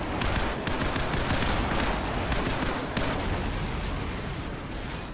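Dense gunfire rattles continuously in a Call of Duty 4 match, rapid overlapping shots and bursts forming a loud, busy wash that eases slightly near the end, with no speech.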